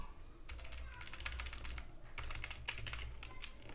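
Rapid computer keyboard typing while PHP code for a signup form is written, a steady run of close, crisp key clicks over low background hum, with no talking.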